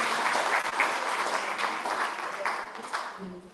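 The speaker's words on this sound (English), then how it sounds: "let's give her a final round of applause" Audience applause for a presenter at a business event, a dense, steady burst of many hands clapping throughout, easing slightly near the end.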